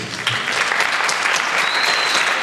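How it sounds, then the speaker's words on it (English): An audience at a jazz camp concert applauds the parents, a steady, full wash of many hands clapping together that holds at the same loudness throughout with no pause. "So applause for each and every parent here, please."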